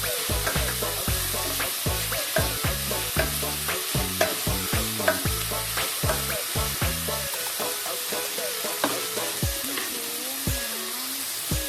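Tomatoes, green chillies and a handful of cashews are sautéed in a pan for paneer butter masala: a continuous sizzle with regular scraping stirs of a spoon, steady and close, with no talking.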